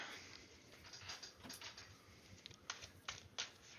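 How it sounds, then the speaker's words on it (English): A deck of playing cards being shuffled during a four-player Commander card game, heard as faint, quick riffling clicks and soft papery patter in short bursts, with no talk. "Shuffling."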